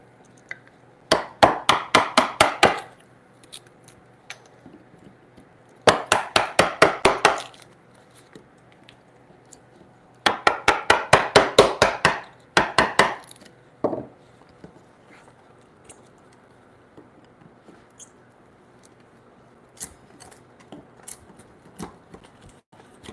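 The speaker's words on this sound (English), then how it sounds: "I can easily shave pieces off, but I need to take larger chunks off here" Chisel striking timber during timber frame joinery for a bunk bed, heard as three loud bursts of rapid sharp taps, each roughly a second or two long, separated by quiet gaps, with a few scattered light knocks afterward.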